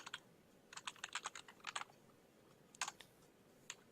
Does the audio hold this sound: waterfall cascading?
no